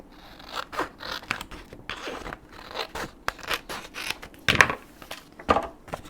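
Scissors cut down a piece of paper for journaling, heard as a string of close, crisp snips and slicing strokes with short pauses between, and no talking.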